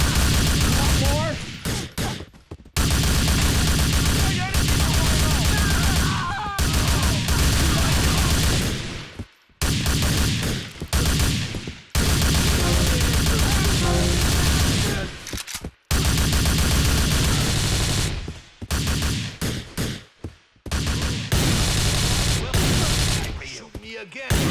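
Heavy gunfire during a shootout in GTA Vice City, long sustained bursts of rapid shots that fill the mix loudly, broken by a few short gaps, with shouting voices mixed in.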